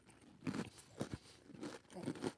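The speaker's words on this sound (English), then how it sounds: "let's see how crunchy this is" Several quick crunchy bites of a snack snap close to the microphone in an uneven rhythm, each a short crisp burst, without any talking.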